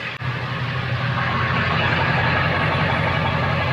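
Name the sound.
straight-piped diesel van exhaust idling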